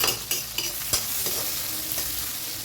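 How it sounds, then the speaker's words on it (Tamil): Tomatoes with a little turmeric powder sautéing in oil for a squid curry, an even close sizzle broken by a few sharp stirring clicks near the start, no talking. "ஆயிலேயே தக்காளி நல்லா வதங்குதுங்க"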